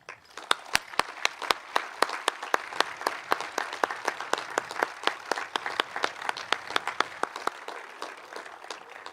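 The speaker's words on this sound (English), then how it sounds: "could you please stand and join me in a round of applause for all those I have just mentioned" Graduating high school seniors and audience clap at a graduation ceremony, a sparse, distinct patter of individual sharp hand claps with audible separate strikes, moderately loud and fairly steady throughout.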